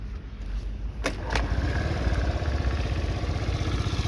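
Honda Tact AF75 fuel-injected moped with start-stop and liquid cooling cranked on its electric starter, a brief whir then the small engine catching and settling into a steady, close, pulsing idle with no talk.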